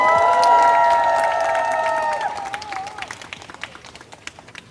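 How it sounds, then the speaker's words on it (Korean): Crowd at a student candlelight rally applauds loudly with cheering and whistles, the clapping strong at first then tapering into scattered claps. "다시 한번 큰 박수 부탁드리겠습니다."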